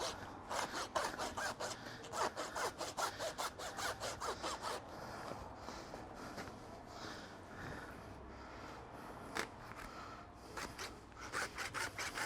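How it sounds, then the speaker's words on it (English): A farrier's rasp files a horse hoof in quick rhythmic strokes, a close, loud rough scraping that pauses briefly midway before resuming in short bursts. "Now it's usually the corner of my rasp to get into it."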